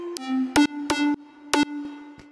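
A deep house synth lead layered from a one-shot sample and a Serum patch, playing a short repeated riff of bright, harmonically rich stabs with a sustained low tone beneath, loud and alone.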